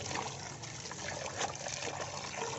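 Water running over moringa tree bark as it is rinsed clean of dust and dirt, a steady close trickling and splashing that carries on evenly without a break.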